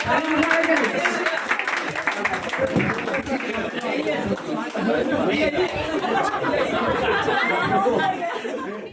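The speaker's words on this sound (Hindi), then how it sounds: "उनके लिए ताली ताली दीजिए।" Audience at a school Teacher's Day event claps and cheers for a student, a dense, loud burst of applause mixed with crowd chatter and laughter, sustained before tapering at the end.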